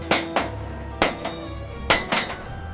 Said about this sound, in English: That's the sound of the final rivet being hammered.